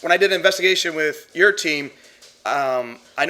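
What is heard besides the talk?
No distinct noise like a dog, phone or traffic.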